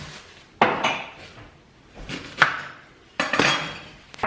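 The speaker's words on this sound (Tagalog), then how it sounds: "Mr. is emptying the dishwasher, so ingay." Dishes, plates and cutlery clatter and clink in bursts as a dishwasher is emptied in a home kitchen, three close, sharp clusters of knocks with quiet gaps between.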